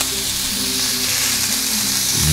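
Steak fries in a hot skillet with a loud, continuous crackling sizzle, close up and steady for the whole moment, with no talking.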